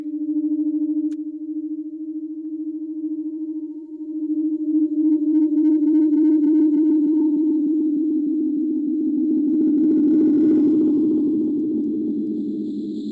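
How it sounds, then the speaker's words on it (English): Tape echo machine with rising feedback loops a synth tone, a sustained hum that thickens and smears into swirling, warbling layers, growing denser and more distorted before settling, with no talking. "Sound is now looping around and folding itself and unfolding itself into something brand new, sometimes harmonic, sometimes dissonant."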